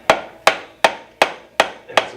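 A hammer drives a waxed part into a track load wheel with six evenly spaced, sharp strikes, each a close, crisp knock with a short ring-off.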